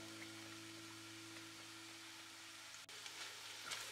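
Chopped onion and garlic fry in hot oil in a pan over medium heat, a steady soft sizzle under a low constant hum, with one small click near the end.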